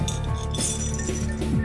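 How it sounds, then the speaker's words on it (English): Gumballs rattling inside a glass bottle as it is shaken, producing a busy stream of small clinks and glassy taps over a steady background. "It's like what happens if you shake a range of colored balls out of a glass container."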